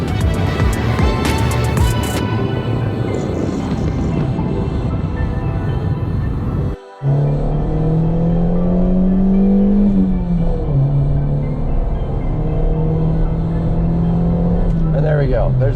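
A 1990 Honda Civic Si engine revs loudly and steadily, a droning pitch climbing and holding under a short cut in the middle, with the car driving close by throughout; speech is likely mixed in.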